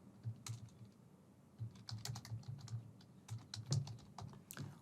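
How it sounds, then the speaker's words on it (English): Fingers type on a computer keyboard, a quiet, irregular run of light clicks and key taps close by, alone with no talking. "So I'm just typing here team Trello."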